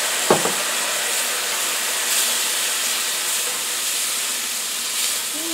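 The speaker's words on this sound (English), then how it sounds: "And as I pour the broth in," Broth poured slowly into a hot pan of onions and flour, giving a steady loud hiss and sizzle that holds throughout.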